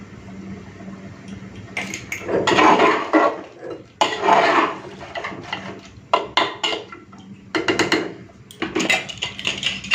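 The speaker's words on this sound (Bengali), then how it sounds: "বেশ প্রেসারের ঢাকাটা এখন লাগিয়ে নিচ্ছি" A pressure cooker lid is fitted onto a pot of potato and half-cooked chicken curry, with bursts of metallic clanking and scraping in uneven clusters, close and fairly loud, separated by brief quiet gaps and no talking.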